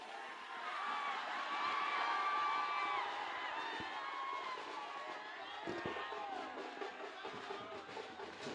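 A crowd at a public fan event cheers and whoops loudly and continuously, with shrill whistles and shouts over a dense wash of voices.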